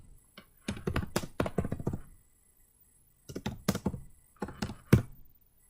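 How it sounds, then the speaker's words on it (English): Typing on a computer keyboard, close and clear, in two bursts of quick uneven key clicks separated by a short pause. "You can click anywhere on the screen and simply start typing."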